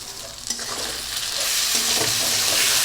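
Spices and potatoes stirred and fried together in a pan for an egg curry, a steady loud sizzle with scraping stir strokes running throughout, no voices.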